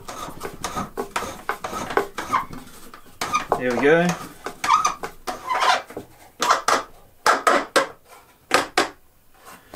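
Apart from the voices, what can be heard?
screw tightening on wooden carving stand, squeaking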